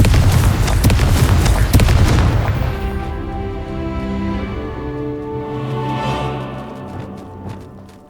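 A Confringo spell explodes in Hogwarts Legacy with a loud, crackling blast that fills the first few seconds, then fades into a long, ringing tail of lingering rumble and tonal shimmer.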